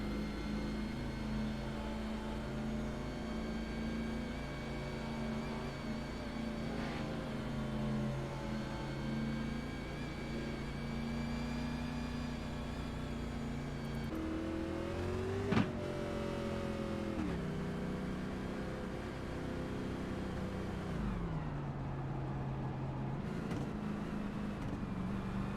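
Stock car engines drone steadily as a Cup Series pack paces laps at Lucas Oil Raceway in iRacing, a sustained multi-engine hum with shifting pitch as cars pass and gear down, plus a sharp click midway.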